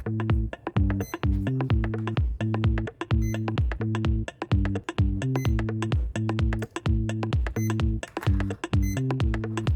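Electronics in a rigger-style RC boat with a 4000kv brushless motor, not yet bound to the transmitter, giving a loud repeating pattern of beeping tones in a steady rhythm throughout.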